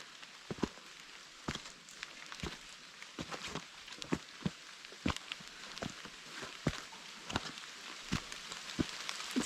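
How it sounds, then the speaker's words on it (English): Rain falls during a steep trek to Sadasiva Kona waterfall, with sharp, irregular drops tapping loudly close to the microphone over a soft hiss. "It's raining."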